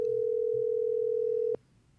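A steady telephone dial tone hums alone for about a second and a half, then cuts off abruptly, leaving faint background hiss.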